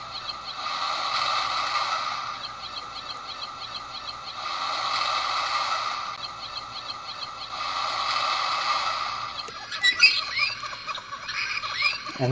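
The ocean setting on a Timex T122NW digital alarm clock plays slow synthetic surf, three soft swelling surges roughly four seconds apart, then a click and a busier chirpy pattern near the end.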